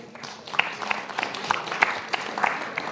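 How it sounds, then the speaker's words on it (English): A small audience claps briefly, scattered individual claps close by at moderate volume over a short stretch. "A clap for them,"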